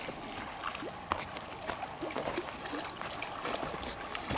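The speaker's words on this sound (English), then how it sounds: "It's a pretty significant cascade coming down right there." A sizeable water cascade at Big Creek Lake in the Bitterroot Mountains produces a continuous rushing, trickling wash at moderate distance, steady and fairly faint, with scattered small clicks and no clear talk.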